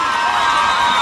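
Live festival audience in Quito cheering and whooping for a contestant, a dense continuous crowd roar with bright shouting voices that holds steady and loud throughout.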